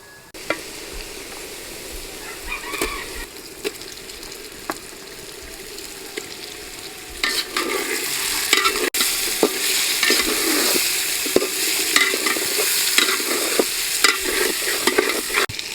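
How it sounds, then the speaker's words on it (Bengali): Fish going into a hot oiled pan for a potato curry, a steady frying sizzle with scattered crackles and spatters that grows louder and busier partway through. "এইবার মাছ দিয়ে দেবো"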